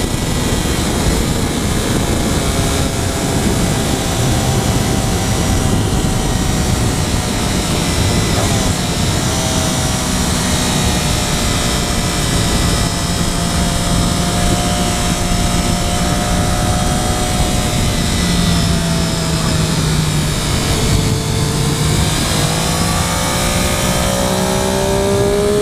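A 2013 Triumph Daytona 675R accelerates on a throttle roll-on, its engine note climbing steadily and then easing off. The loud, close whine runs continuously under strong wind rush.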